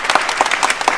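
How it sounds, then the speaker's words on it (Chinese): A short burst of applause from a small tour group on a Kinabatangan river trip in Sabah, quick dense claps close by for about a second. "掌声鼓励一下。"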